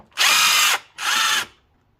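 Impact wrench or power tool removing a nut from the front coilover of a Subaru WRX STI, two loud close bursts of whirring, the first longer, separated by a brief pause.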